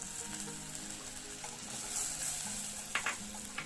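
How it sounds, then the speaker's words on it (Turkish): Flour and dried mint roasting in melted butter in a pan for soup, a soft continuous sizzle near the mic, with a couple of brief utensil taps toward the end. "Un kokusu gidinceye kadar unumu da kavuruyorum."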